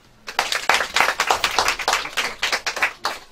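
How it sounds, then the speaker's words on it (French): A small group clapping for a departmental council president at a public gathering in the Sangha region, loose and uneven, with distinct hand strikes in irregular bursts that swell and dip. "il faut l'applaudir."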